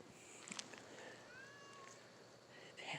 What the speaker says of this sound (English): She's meowing all the time.